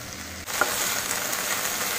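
Okra fries with curd in an open pan while being stirred. After a brief quieter moment, a steady, close hiss of sizzling oil rises and continues evenly with no talking.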